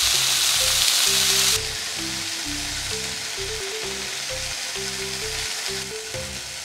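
Pork-wrapped avocado rolls sizzle and crackle steadily in a hot pan, a close, continuous frying hiss that eases slightly partway through, with occasional faint clicks of utensils.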